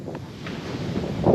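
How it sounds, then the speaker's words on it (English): Strong coastal wind buffets the microphone in a steady low rumble, swelling louder toward the end, with no voices. "Oh, it's too windy. It's too windy."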